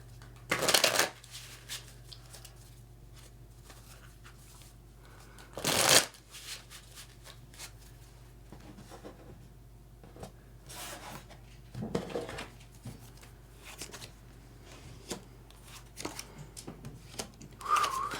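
Tarot cards shuffled by hand, giving two loud riffling bursts early on, then quieter scattered shuffles and soft rubbing of the deck, with a light chime near the end.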